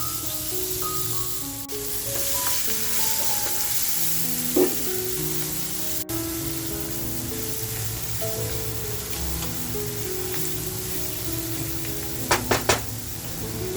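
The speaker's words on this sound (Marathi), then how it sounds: "आता थोडंसं बटर टाकते कांदा जो कापून घेतलाय तो कांदा टाकायचा" Chopped onion sizzling in butter and oil in a pan, a steady close frying hiss with a few sharp clinks and stirring sounds.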